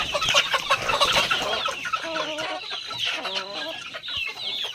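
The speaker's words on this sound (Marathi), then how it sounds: "बघा कशा पद्धतीने आपल्या ज्या कोंबड्या आहे त्या सगळ्या बसल्या आहे." Several free-range village chickens cluck and squawk close by at night on a bamboo roost, overlapping continuously in a busy, restless chorus.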